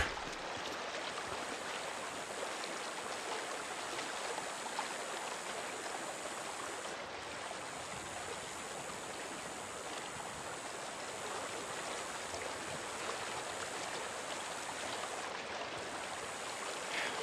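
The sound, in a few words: stream water flowing in the video game Days Gone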